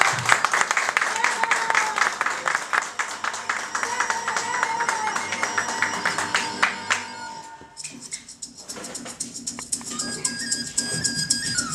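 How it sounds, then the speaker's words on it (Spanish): An audience claps warmly to welcome a guest, a district deputy, at an evening event. The applause is steady and close, with some whistles, and eases off partway through before clapping picks up again. "Un aplauso."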